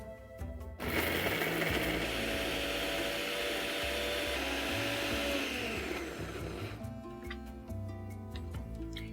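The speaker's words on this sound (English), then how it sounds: "Let's grind this into an absolutely fine and smooth paste" An electric grinder blends a kebab mixture into a fine, smooth paste with a loud, continuous whirring roar that stays steady for several seconds before easing down.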